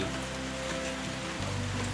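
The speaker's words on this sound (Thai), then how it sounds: "เวลาฝนตกมันทำให้ผมติดฝนไปไหนไม่ได้" Steady heavy rain falling during a storm in the rainy season at Noen Maprang, Phitsanulok, a dense continuous hiss of drops hitting surfaces, loud and close with no pauses.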